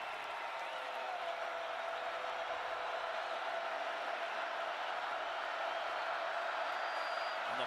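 A sellout crowd at a 2012 Oklahoma Sooners home football game against Florida A&M roars on a third down, a steady, wide stadium wash of cheering and noise that holds without a break.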